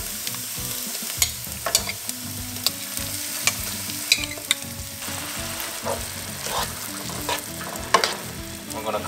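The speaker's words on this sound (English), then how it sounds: "So now we will be adding our marinade, our paneer marinade." Paneer marinade poured into golden-brown fried onions, producing a steady sizzle with repeated scraping and stirring knocks in an uneven rhythm, moderately close and without speech.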